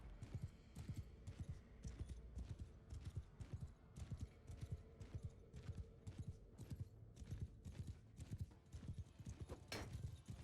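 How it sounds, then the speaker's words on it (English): Horse hooves galloping flat out across an open battlefield in the video game Mount & Blade II: Bannerlord, a fast, steady drumming of hoofbeats throughout with a brief whinny near the end. "I do like it when the horse is going flat out."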